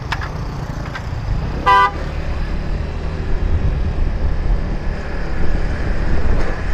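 A car horn gives one short toot in Jakarta traffic, heard from a motorbike, over a steady rumble of engines and road noise with no talk.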